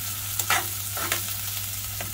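Onion and ginger stirred as they fry in a pan, a continuous sizzle broken by a few sharp scraping strokes of the spoon, close and alone without speech.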